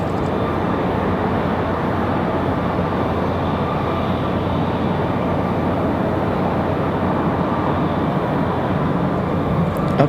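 Aer Lingus airliner departing on takeoff, heard as a steady, loud broadband jet engine roar that holds constant throughout without any voices.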